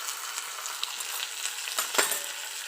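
Green chillies sizzle in hot oil with asafoetida and are stirred, giving a steady close frying hiss with a scraping stir stroke near the end.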